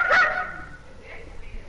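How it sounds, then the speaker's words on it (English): A single dog bark sounds at the start, fairly clear and mid-distance, then trails into quiet room noise with faint rustling. "I hear a dog."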